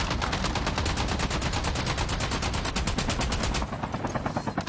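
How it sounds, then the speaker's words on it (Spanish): Rapid automatic gunfire aimed at the player in a video game, a long burst of evenly spaced, loud shots that rattles on for several seconds before breaking into a few scattered, weaker rounds near the end. "Nos estaban disparando, ¿vieron?"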